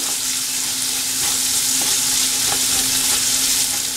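Sliced onions frying steadily in hot oil, browning for bisibelabath, with a continuous close sizzle and occasional soft stirring clicks, no voices.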